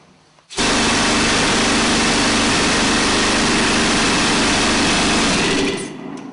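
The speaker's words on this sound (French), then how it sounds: "Alors ça, c'est le bruit mélodieux d'un marteau perforateur." Rock drill hammer pounding in a coal mine gallery: a sudden, very loud, continuous rattling roar that starts abruptly and holds steady for several seconds before cutting off, with no voices over it.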